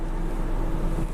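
Air conditioning in a 2018 Ford Explorer Limited blows hard with a steady, broadband rushing hiss and low rumble inside the cabin, continuous and loud with no talking.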